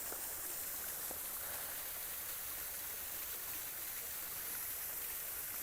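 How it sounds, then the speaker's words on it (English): A garden waterfall pours steadily in the distance, a soft, even hiss of falling water with no voices. "There's the waterfall."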